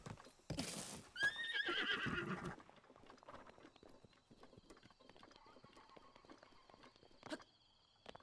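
Horse neighing in Zelda Breath of the Wild: a loud whinny rises and falls over about two seconds, followed by quieter hoof clip-clops and footsteps, with faint talk underneath.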